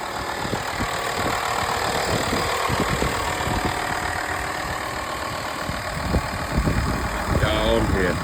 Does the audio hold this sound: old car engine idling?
yes